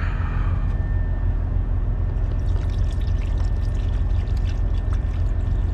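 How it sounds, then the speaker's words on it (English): Diesel pours into a fuel water separator filter housing on a Paccar MX13 truck engine, a steady close liquid rush with a faint hiss running the whole time and no talking. "we need to fill that up with diesel"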